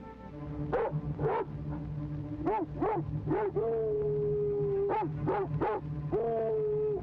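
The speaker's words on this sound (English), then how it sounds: "That's the dog." A dog barks on snowy ski slopes near Aspen, Colorado, in 1962, giving a series of loud, tonal barks in irregular bursts with a couple of longer howl-like calls, alone and fairly near.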